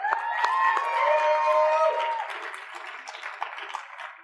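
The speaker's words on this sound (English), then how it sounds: "Big round of applause for Lyve, everybody." Audience applause and cheering at the 2015 CES mobile apps showdown, loud clapping at the start under a speaking voice, then tapering off over a few seconds.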